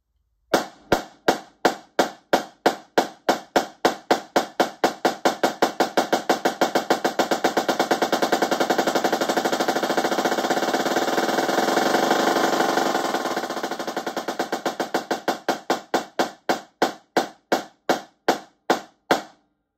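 A drum rudiment played on a Yamaha drum begins as slow, evenly spaced sharp strokes, speeds up into a dense roll, then slows back down to separate hits.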